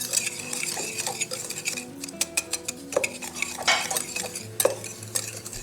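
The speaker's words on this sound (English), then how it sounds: "Mix that together." Brown and white sugar stirred into melted butter, a spoon scraping and clinking against the bowl in quick uneven strokes, fairly close and clear.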